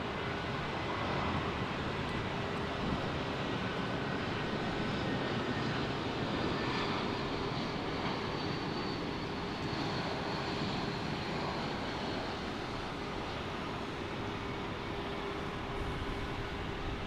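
JetBlue airliner at Fort Lauderdale International Airport, a continuous broadband jet engine roar, steady and moderately loud throughout with a faint whine, no voices.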